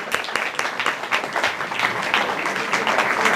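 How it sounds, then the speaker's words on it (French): An audience in Normandy applauds a man in attendance, its dense, steady clapping filling the space on its own at close, loud range without a break. "on l'applaudit, il est ici"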